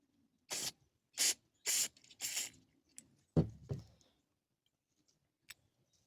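Aerosol carburetor cleaner sprayed into the jets of a Craftsman LT 4000 lawn tractor carburetor, four short sharp hissing bursts close by, then a couple of quiet clicks and small handling noises.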